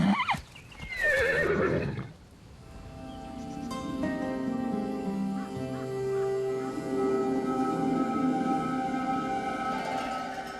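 Wild horses of a preserved native Portuguese breed neigh loudly in open country, one shrill whinny near the start followed by longer lower calls and snorts carrying over several seconds, with no talking.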